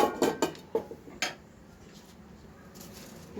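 A spoon clatters and scrapes against a kadai with ghee as biryani is stirred, giving a quick burst of metallic knocks followed by quiet.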